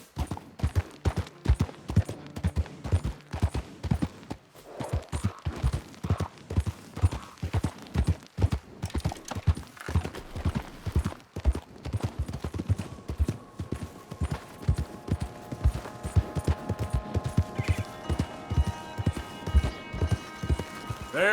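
Hooves of a horse in the video game Red Dead Redemption 2 beat a fast, steady galloping rhythm for the whole stretch, with faint music tones emerging toward the end.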